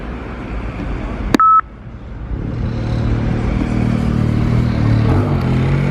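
Quick electronic dialing tones from a street taxi call box, a short tone burst near the start, followed by steady engine rumble from passing traffic.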